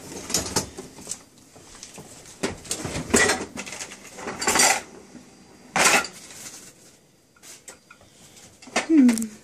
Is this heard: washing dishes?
yes